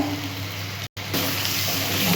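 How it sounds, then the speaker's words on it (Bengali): Water poured into a hot pan of frying ground coriander, cumin and Kashmiri chili powder, making a loud steady hiss and sizzle that briefly cuts out before the sizzling resumes and swells. "একটু জল দিচ্ছি, নাহলে মশলাটা পুড়ে যাবে।"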